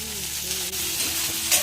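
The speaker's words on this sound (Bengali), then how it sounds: "এবার এক এক করে সবগুলো দিয়ে তেলে হালকা ভেজে নিলাম।" Onion, tomato, ginger, garlic and chilli paste frying in hot oil for a fish curry, a steady close sizzle with faint stirring and a brief louder crackle near the end.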